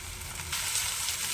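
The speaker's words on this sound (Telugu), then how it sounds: "ఇలా వేయించుకోవాలి అండి. వేగింది దొండకాయ." Ivy gourd (tindora) frying in a pan gives a short, steady sizzle that grows slightly louder halfway through.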